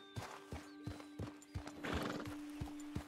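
Steady clip-clop of horse hooves trotting at a regular rhythm in Red Dead Redemption 2, close and clear, with a brief whinny-like burst in the middle.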